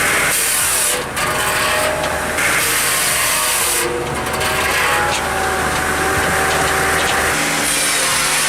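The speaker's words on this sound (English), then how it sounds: "A 66-inch Simon circular blade." A 66-inch Simon circular saw blade cuts through giant logs, a loud, continuous grinding and whining roar with high-pitched blade noise that dips briefly and then holds steady throughout.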